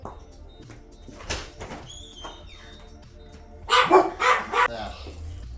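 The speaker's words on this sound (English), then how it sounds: "Gotta love it when your dogs make the noise" Several dogs bark in sharp, loud bursts near the end, following a stretch of quieter room noise with electronic toy sounds.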